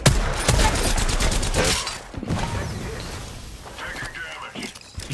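Rapid gunfire from a video game, bursts of loud shots and clattering fire packed into the first two seconds, then sparser reports and mechanical clicks, with a player talking over the action.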